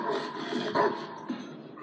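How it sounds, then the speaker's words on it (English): Dog barking in the video game Need for Speed: The Run, a few short barks at moderate distance over steady game ambience, with no talk. "Yo, that dog."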